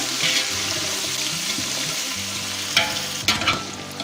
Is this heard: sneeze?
no